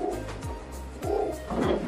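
A loosdoor racing pigeon coos close by in low, throaty, repeated rolling coos, with a few soft bursts of movement between calls.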